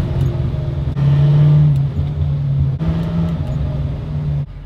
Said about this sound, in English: now I'm gonna take my car back on the streets and bed in the brakes